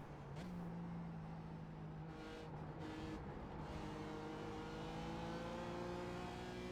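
A BMW M4 GT4 race car at Silverstone, heard close from on board, as its engine is pushed hard on throttle with a steady roar, pitch rising and dropping through gear changes, no talk.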